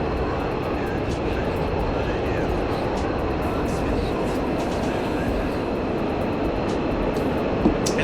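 A Mirage fighter jet's engine roars in a DCS flight simulator with the canopy off, a steady loud broadband rush of engine and wind that stays constant throughout with no talk over it.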